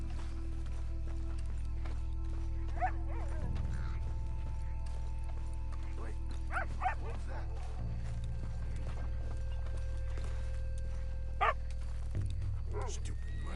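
A dog in Red Dead Redemption 2 lets out a few short, fairly faint barks against a low ambient drone, with voices talking nearby.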